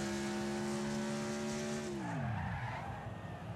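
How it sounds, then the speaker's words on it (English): A car in the racing game Wreckfest brakes hard, its steady engine drone dropping sharply in pitch as the tires skid and squeal, loud and close, alone without talk. "Ah, slamming on the brakes there."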